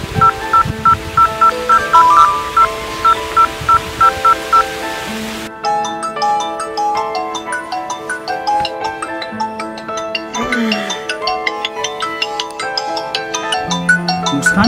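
Rapid electronic keypad tones beep in quick succession as a phone is dialed, then a burst of bright ringing chimes and tonal melody fills the rest, fairly loud with no voices.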